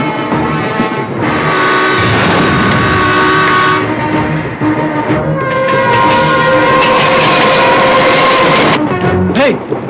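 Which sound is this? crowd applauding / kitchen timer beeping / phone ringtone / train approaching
train approaching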